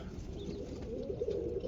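Roller pigeons cooing, a low, soft, murmuring coo rolling on under a steady background hum, close but quiet and brief.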